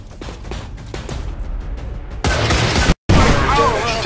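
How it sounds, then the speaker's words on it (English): Heavy gunfire in the video game XCOM 2: War of the Chosen, loud dense crackling bursts and booms that swell sharply halfway through, cut out for a moment, then return at full intensity. "There's heavy fire in this zone!"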